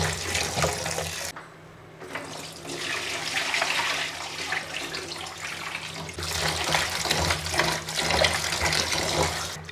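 Rice is washed under running tap water, with a close, loud splashing flow that briefly quiets and then returns more strongly, all without talking.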